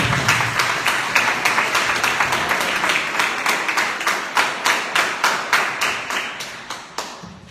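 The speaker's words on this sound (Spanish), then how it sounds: "Un aplauso para el maestro Leonel Fernández." A large audience claps steadily in sustained applause welcoming a lecturer at a conference on judicial reform, many hands blending into a dense wash with rhythmic accents near the end.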